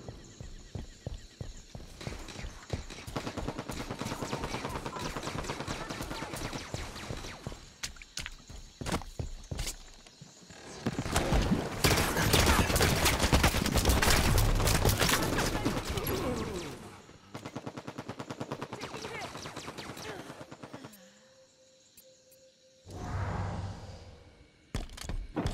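Gunfire crackles through a Halo 5: Guardians match, with bursts of rapid shots, a dense sustained barrage in the middle and scattered impacts around it, all moderately loud against busy game ambience.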